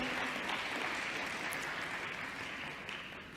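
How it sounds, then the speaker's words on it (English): A faint, distant round of applause from an audience at a South African youth careers event, a soft, even wash of clapping that tapers slightly toward the end. "let's give Mpho another round of applause"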